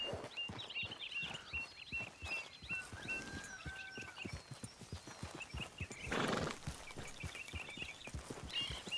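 A horse in Red Dead Redemption 2 clip-clops along in a steady walking rhythm and lets out a loud whinny partway through, with birds chirping faintly in the background and no one talking.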